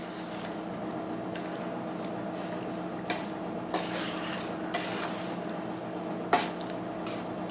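Cherry pie filling mixed with cornstarch in a bowl, faint soft squishing and rubbing with occasional light clicks of a spoon against the bowl over a steady low background hum.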